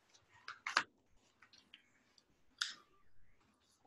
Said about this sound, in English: And then you're just gonna fold it one more time.